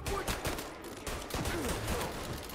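Gunfire in the video game Mafia, a dense, continuous burst of shots rattling steadily with no pauses, fairly loud and layered over game background noise, with no voices.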